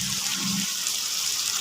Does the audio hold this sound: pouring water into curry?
yes